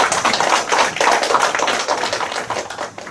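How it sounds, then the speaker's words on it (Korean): Audience applause welcoming presidential candidate Moon Jae-in at a joint interview with Korean local newspaper journalists, a brisk dense patter of many hands clapping close by for about three seconds. "우리 큰 박수로 환영해 주시기 바랍니다."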